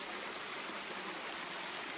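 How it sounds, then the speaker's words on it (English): A little mountain creek at John's Mountain flows steadily, its broadband rushing and trickling water close and continuous with no voices. "There's a little creek that we swim in down there."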